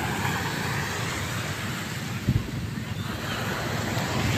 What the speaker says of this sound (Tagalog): mahina ang alon